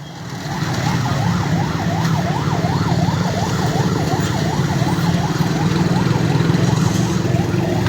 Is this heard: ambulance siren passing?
yes